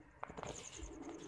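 Faint pigeon cooing from a show pigeon of the hansua breed, soft low coos with a light rustle nearby, quiet and brief.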